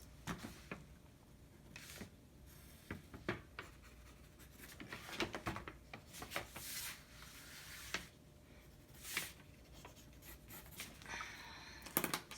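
A pen or marker scratches and scrapes across a brown paper bag in short irregular strokes, close and fairly quiet, with small pauses between the marks.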